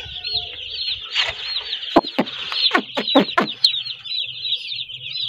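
Chickens cluck and squawk steadily while feeding, with a run of sharp, loud calls near the middle over a constant background of birdsong.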